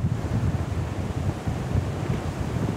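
Strong wind buffets the microphone over steady crashing surf at a kitesurf beach in Sangatte, a loud, continuous roar with no voices.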